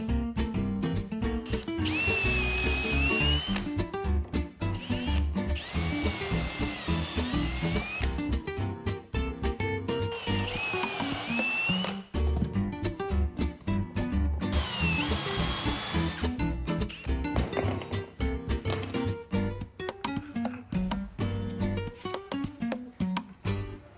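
Power drill boring pocket holes into wood drawer parts with a pocket hole jig, a loud steady whine in several long bursts separated by short pauses, close up with no talking.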